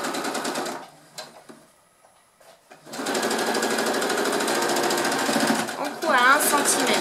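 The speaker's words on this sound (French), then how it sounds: "On est parti pour la couture" Sewing machine stitching a reusable fabric shopping bag, running in a steady rapid whir, starting briefly, pausing, then sewing continuously and loud up close.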